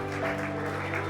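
Steady applause from a crowd, a continuous wash of clapping with a low musical hum underneath.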